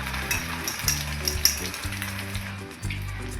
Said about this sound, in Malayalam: ചൂടായി കിടക്കുന്ന പാനിലേക്ക് നമുക്ക് ഈ അടിച്ചു വെച്ച മുട്ടക്കൂട്ട്